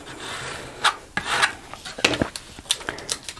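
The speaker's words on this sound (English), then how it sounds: "We'll just burnish that down." Short scraping and rubbing strokes as a tool burnishes vinyl onto a wood surface, a quick irregular series of close, crisp rasps with no talking.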